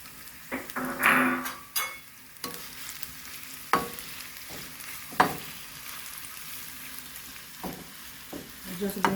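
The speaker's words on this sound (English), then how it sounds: "I'm tossing in my onion" An onion goes into a hot frying pan for Jamaican escovitch fish, giving a soft, steady sizzle broken by scattered clanks and scrapes of a utensil against the pan, fairly quiet throughout.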